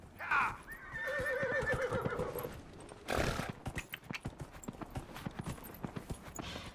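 A horse in the video game Dragon Age Inquisition gives a loud whinny, then a second neigh bursts out before hooves clip-clop in a steady run of close hoofbeats.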